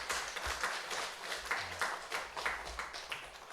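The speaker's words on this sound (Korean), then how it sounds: "설교 전에 박수를 받아보긴 처음인 것 같은데요" Church audience applauding before a sermon, a dense, steady patter of many hands clapping at moderate distance, filling the room without pause and with no voices over it.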